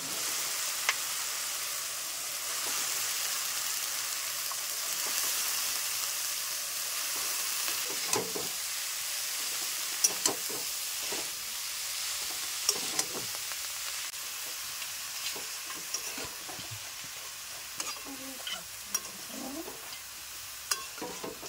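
Cabbage dropped into sautéed spices and turmeric sizzles in a pan, a low steady frying hiss with irregular clacks and scrapes of a spoon stirring, close and moderately loud over about twenty seconds, no voices.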